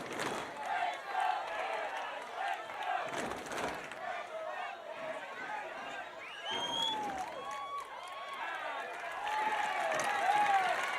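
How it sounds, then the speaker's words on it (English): A soccer stadium crowd at a Sarasota Paradise vs Fort Lauderdale United FC match roars and cheers steadily with scattered whistles. A commentator talks over the noise throughout. "And now this crowd is alive"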